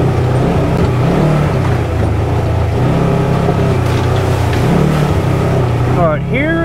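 A 2022 Polaris General XP 1000 Trailhead Edition UTV on 30-inch tires driving off-road, its engine droning loud and steady up close with rising and falling revs, a voice speaking over it.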